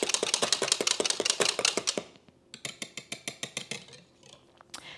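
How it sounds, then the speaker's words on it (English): A small hand whisk mixes a protein ice cream base, giving quick rhythmic clicking taps against the container, a fast steady burst, a brief pause, then a slower run of taps, close and fairly loud. "So we just mix this up with just a little hand whisk."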